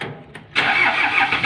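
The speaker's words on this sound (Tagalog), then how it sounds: "pinatay ko at titestin ko kung i-start na" A car engine cranks briefly, then catches and settles into a steady, loud idle close by, after an alternator conversion to an IC voltage regulator.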